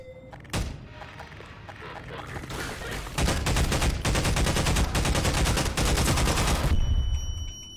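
In Half-Life 2, a thump opens the scene, then rapid SMG gunfire rattles in a loud, sustained burst of dense shots for several seconds before cutting off.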